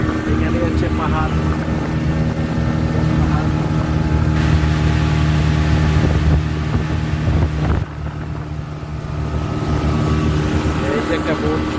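A speedboat motor drones steadily across the Tanguar Haor wetland, a loud continuous engine hum with wind rushing past and a brief dip in level partway through.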